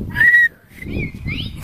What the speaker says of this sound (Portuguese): Como que assobia?